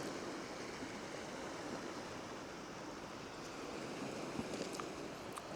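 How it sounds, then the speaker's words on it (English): Waves wash steadily onto a shaly, stony beach near Penmon Lighthouse on Anglesey, a continuous broad surf rush with wind and no clear breaks, heard at moderate distance. "sat on a shaly beach"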